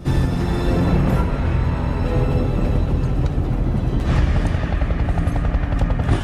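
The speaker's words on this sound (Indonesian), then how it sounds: "Lee kemudian mengajak Doc untuk naik ke helikopter" A loud, constant helicopter rotor roar dominates throughout, heavy and close, with dramatic rumbling layered underneath.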